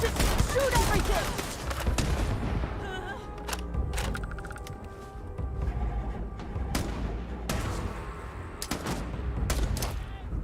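Rapid gunfire rattles through a Starfield firefight, sharp volleys and booming blasts from a grenade punctuating the action, with voices talking over the shooting at intervals.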